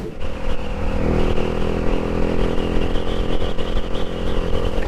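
Motorcycle fitted with a Leo Vince exhaust, its engine droning loud and steady at close range with a throaty hum and light rattling, no voices over it.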